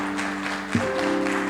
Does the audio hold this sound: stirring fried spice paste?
no